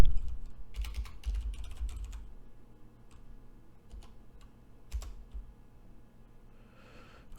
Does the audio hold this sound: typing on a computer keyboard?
yes